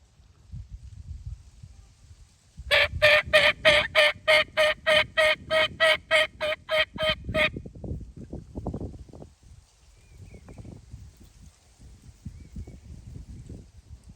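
A turkey mouth call produces a rapid, even run of about fifteen sharp, harmonic gobble-like notes over roughly five seconds, loud and close, with soft low rustling before and after.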